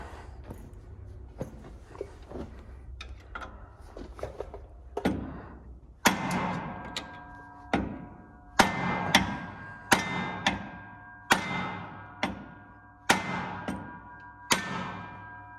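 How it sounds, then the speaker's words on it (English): Repeated metallic hammer strikes ring out on a steel roll pin punch driving a stuck pin in a corn planter part, light taps at first, then a steady series of harder blows about one per second. "I got my hammer and roll pin punch lined up"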